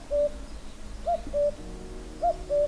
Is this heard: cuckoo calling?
yes